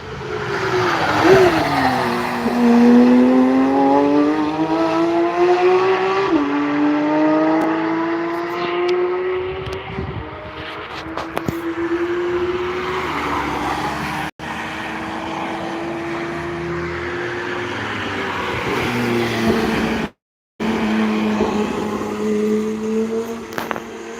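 Race cars rush past on the Nürburgring, engines rising and falling in pitch as they pass, with loud layered engine drone that continues almost without a break.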